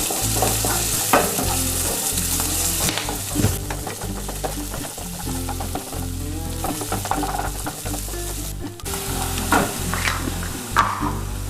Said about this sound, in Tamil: வெங்காயமும் கருவேப்பிலை தலையும் ஆட் பண்ணிக்கிறேங்க. இது நல்லா வணக்கிடலாம்.